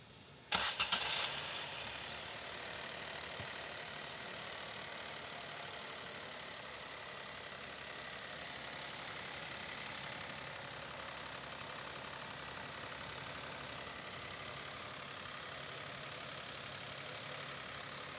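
A Maruti Alto K10 with a 1.0 litre K-series engine, heard close: a sharp crank and catch, then a steady, even idle that hums on without change.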